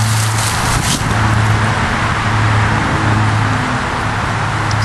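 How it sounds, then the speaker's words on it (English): A 15,000-watt four-cylinder Onan diesel generator set runs close by, a loud, steady droning hum with a firm low throb that holds unchanged from start to finish. "It's a 4-cylinder Onan diesel."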